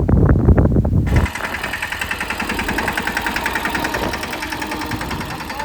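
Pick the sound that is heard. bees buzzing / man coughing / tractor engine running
tractor engine running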